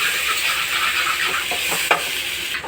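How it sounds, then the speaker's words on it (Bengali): Onion sizzles and is stirred in hot oil in a pan for a mustard katla fish curry, giving a steady close frying hiss with scraping stirs and one sharper clatter near the end, and no voices. "যেহেতু পেঁয়াজটা একটু ভাজা ভাজা হয়ে গিয়েছে"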